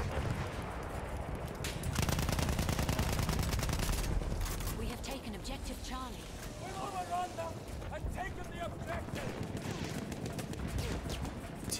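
Gunfire from a teammate in the video game Battlefield 1, sustained bursts of shots and explosive battlefield noise running through the whole stretch, loud and close, with a voice talking over part of it.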